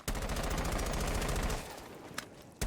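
Rapid automatic gunfire from a weapon in the video game Rainbow Six Siege, a steady fast burst of loud close shots for about a second and a half, then a few sparse single shots.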